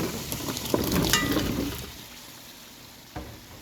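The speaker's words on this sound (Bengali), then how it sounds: "প্রথমে আলুটাকে খুব ভালো করে কষিয়ে নিচ্ছি" Potatoes fry in spice paste in a pan while being cooked for alur dom, giving a short burst of sizzling and stirring scrapes up close that fades to a quieter hiss, with a brief knock near the end.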